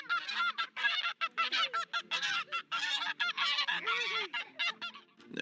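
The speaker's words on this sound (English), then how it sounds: "do not mess with geese. They will mess you up." A goose honks loudly and repeatedly at close range in rapid, harsh bursts that run almost continuously, with no other sound competing.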